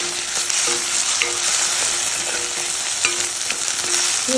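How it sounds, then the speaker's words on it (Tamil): Beaten egg stir-fries in a pan with onions, giving a loud continuous sizzle broken by repeated scraping and stirring strokes, with no voices. "கொஞ்சம் லைட்டாக உடச்சி ஊற்றிட்டேன் அதை அப்படியே இது கூட மிக்ஸ் பண்ணி வதக்கணும்"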